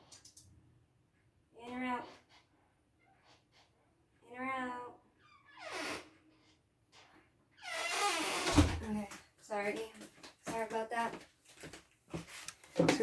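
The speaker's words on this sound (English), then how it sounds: "I'm going to open the door for my cat" A door opens indoors to let a pet cat in, a few short knocks and creaks scattered between a woman's speech as she coaxes the cat.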